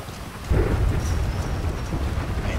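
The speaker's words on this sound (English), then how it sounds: "y'all hear that thunder?" Thunder rumbling during a thunderstorm with steady heavy rain, a loud low roll swelling after a moment and sustained throughout, with no talking.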